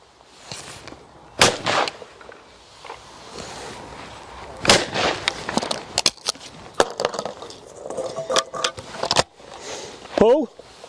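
Shotgun shots at clay targets from a Browning, several sharp loud reports spaced irregularly over the clip, with voices in between calling for the targets.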